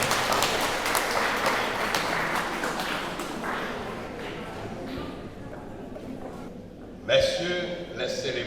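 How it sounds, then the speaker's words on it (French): A congregation at a funeral service claps in a church, with a steady patter of applause that gradually fades. Near the end a voice begins speaking over it. "nous applaudissons."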